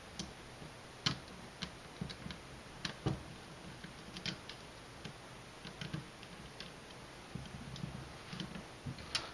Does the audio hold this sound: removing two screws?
yes